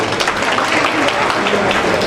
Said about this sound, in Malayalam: എല്ലാവരും ചേർന്ന് കൈയടിക്കണം